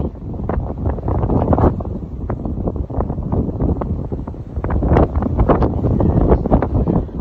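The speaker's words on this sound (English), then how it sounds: "We're at the lakes and it's very windy." Strong wind at a lake buffets the microphone loudly and continuously, with rough gusts roaring for the whole stretch and no break.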